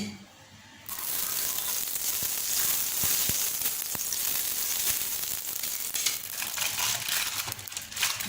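Ghee suddenly hisses and sizzles on a hot tawa while a lachha paratha cooks, starting abruptly after a brief quiet moment and then crackling steadily with occasional pops, close and fairly loud.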